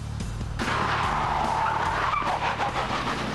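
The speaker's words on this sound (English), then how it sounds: "I think we're skidding a car right now." A car engine roars as tires squeal and skid loudly for several seconds, close and continuous, during a stunt-driving shoot on London streets.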